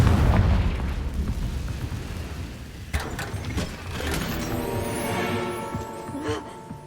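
Booming Confringo spell blasts in the video game Hogwarts Legacy, a few loud bursts with crackling debris and lingering magical effects, fairly close.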